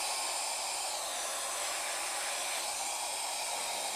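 A Nanoby X213 electric air duster blows on its medium setting, giving a steady, even rush of air with a fan whir that holds constant throughout, close and fairly loud, with no talk.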